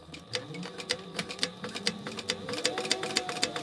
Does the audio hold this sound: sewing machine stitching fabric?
yes